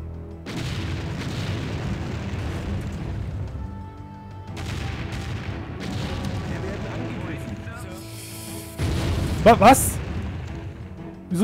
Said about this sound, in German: Wieso sind die jetzt explodiert?